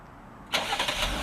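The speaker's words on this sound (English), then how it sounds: "let's do the remote start, because that is my favorite feature" A 2019 Dodge Durango engine started by remote start: after a quiet pause it cranks and catches with a sudden close whoosh, then settles into a steady idle.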